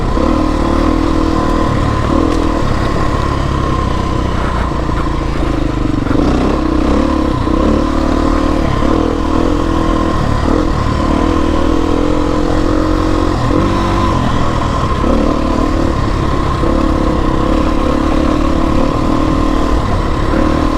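A Beta 350 dirt bike engine runs steadily and loud for the whole stretch of an off-road ride, with a constant close drone, rising and falling revs, and clattering chassis noise.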